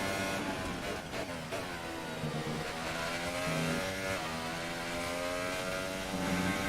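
An F1 race car in the F1 2018 video game accelerates hard, its high-pitched engine whine climbing through quick gear shifts, loud and continuous throughout.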